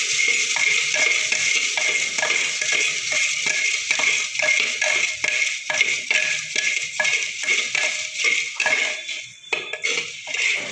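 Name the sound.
mixing munta masala ingredients in a bowl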